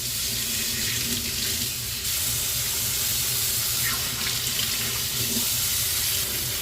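Hot water runs steadily from a kitchen sink faucet, a constant close splashing hiss that holds even for the whole stretch with no voices.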